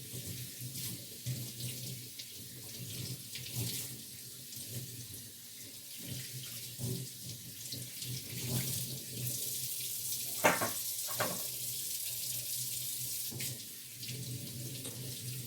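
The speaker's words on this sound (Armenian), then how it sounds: "Այս հոսող ջուրը փրկություն է," A kitchen tap runs steadily while fresh coriander is rinsed under it. The water rushes continuously and close, with small splashes and occasional louder knocks against the sink.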